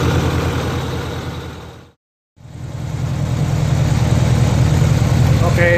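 A 1986 Honda Goldwing GL1200 motorcycle engine, with oil burning in cylinder one, idles steadily nearby, a low even rumble that cuts out briefly near the middle and then resumes.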